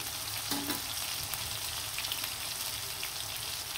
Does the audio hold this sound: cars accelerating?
no